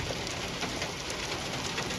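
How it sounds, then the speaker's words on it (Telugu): Heavy rain pours down beside a river during a power cut, a dense, even roar of drops that stays steady and loud throughout, with no voices. "మొత్తం ఇలాగా వర్షం ఇంకా పెద్దది అవుతుంది."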